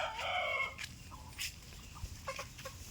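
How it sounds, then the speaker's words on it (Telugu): Fighting-breed chickens on a Telangana farm cluck under a lemon tree, with a few short, fairly faint calls and cackles over low background noise. "ఈ నిమ్మ చెట్టు కింద ఉన్న కోళ్ళు చూడండి."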